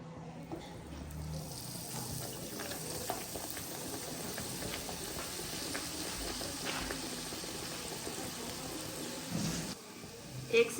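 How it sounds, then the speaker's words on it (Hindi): Masala-coated naan fries in a pan over a moderate flame, producing a continuous, dense crackle like fine rain. It is faint and steady, with a few louder pops near the end. "अब हम इसको फ्राई करेंगे।"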